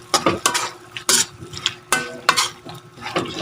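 Eggplant cooking in a pan with squid adobo: a low sizzle beneath repeated scraping and clacking of a spatula or spoon against the pan, in uneven bursts throughout.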